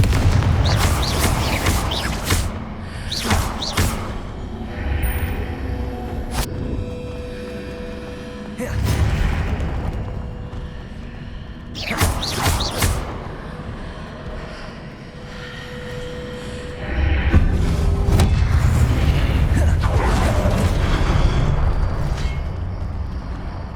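Confringo fire spell blasts in Hogwarts Legacy on PS5, heavy booming explosions in several loud bursts with rumbling decay between them, alongside game ambience.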